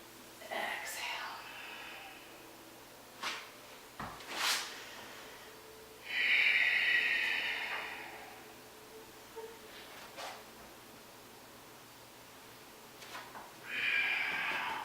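Deep breathing in a yoga flow, with several audible nasal inhales and exhales, one long airy breath in the middle and another near the end, close and quiet with faint soft voice sounds between.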